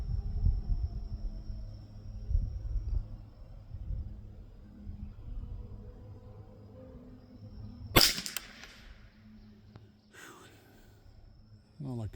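A CZ 512 .22 LR rifle fires at a range target 50 yards away, giving one sharp, fairly loud crack partway through and a softer second report shortly after, over low background noise.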